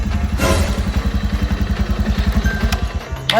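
A motorcycle engine runs nearby with a rapid, even chugging beat and some mechanical clatter. It holds steady throughout, loud and close, with no talking.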